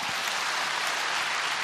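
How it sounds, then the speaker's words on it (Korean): Church congregation applauding during a Korean worship service, a dense, steady wash of many hands clapping at close range, filling the whole moment without a voice over it. "우리 하나님께 영광의 박수를 합니다."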